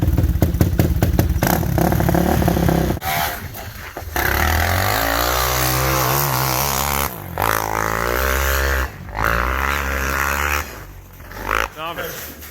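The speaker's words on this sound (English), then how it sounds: "Snow quad out here." A snow quad engine revs hard and loud nearby, with the pitch rising and falling through repeated throttle blips and rattling mechanical clatter, while people talk and shout over it outdoors.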